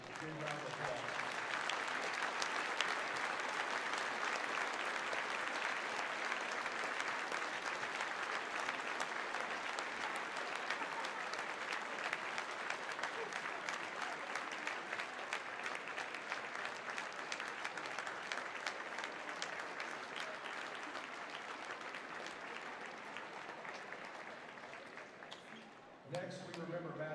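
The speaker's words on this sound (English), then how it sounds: "Big round of applause." A gym crowd at a high school basketball game applauds in a long, steady, loud wash of clapping that keeps going for nearly half a minute before tapering off at the end.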